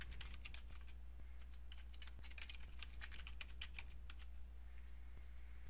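Quick, light keystrokes on a computer keyboard tap out a CAPTCHA in irregular bursts over a steady low hum, close and fairly quiet with no voices.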